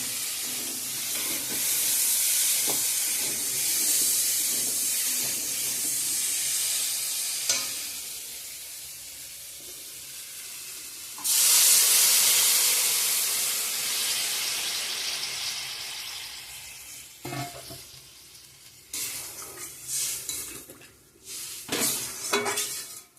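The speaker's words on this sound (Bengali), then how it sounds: "ভালো করে ভাজা ভাজা করে নিয়ে জল দিয়ে দেবো মশলার সঙ্গে।" Water poured onto fried spiced masala in a pan for a taro curry with dried fish sets off a loud hissing burst of steam that fades, followed by scraping and clinking of utensils.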